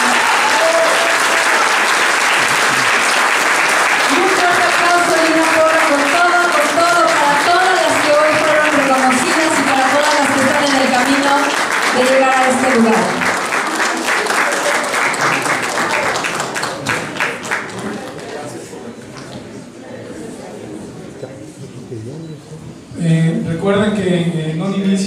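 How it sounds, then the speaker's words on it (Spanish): Loud, sustained audience applause for a newly graduated lawyer at a ceremony honoring women's philanthropic work, with cheering and a voice over the clapping, tapering off toward the end before a brief burst of talk. "fuerte el aplauso para nuestra nueva abogada"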